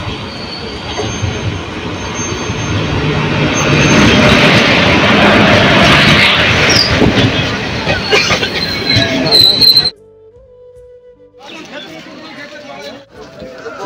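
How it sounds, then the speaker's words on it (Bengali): The 13117 Dhano Dhanya Express rolls into a station platform, a loud, swelling rumble of wheels and carriages that suddenly drops to a much quieter background, with voices audible over it. "আমাদের প্ল্যাটফর্মে ট্রেন ঢুকে গেল"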